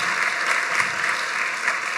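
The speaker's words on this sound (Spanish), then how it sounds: "Quiero darle un aplauso a los hermanos en Cristo que están allá en República Dominicana" A congregation applauds during a Spanish-language church service, a dense, steady wash of many hands clapping at even loudness for about two seconds, with no talking.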